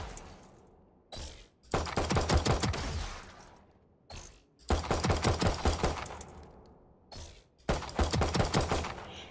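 Classic pistol fired in semi-automatic mode in Valorant: three bursts of rapid, evenly spaced sharp shots, each run lasting about a second and separated by short pauses with brief mechanical clicks, loud and close.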